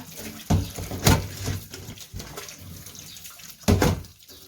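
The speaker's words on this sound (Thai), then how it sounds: "แล้วก็ล้างค่ะ ล้างเอายางที่เกาะอยู่ออกนะคะ" Bananas are washed by hand in water to strip off their sap, making a few irregular close splashes and sloshes with quiet pauses between them.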